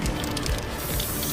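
A short burst of aerosol spraying, a sustained airy hiss that pauses briefly and resumes, close and fairly loud.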